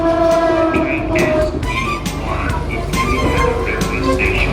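Passenger train horn blaring at Hanoi railway station as the SE1 express to Ho Chi Minh City departs, long tonal blasts over rumbling platform noise and announcements.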